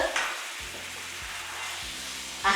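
Goat curry simmering in a home-cooking pot, a soft steady bubbling sizzle with a few low scraping strokes of a spoon being stirred through it, no talk.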